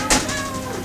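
Kitten abandoned in an apartment stairwell giving a single short, high meow up close, with faint background noise after it.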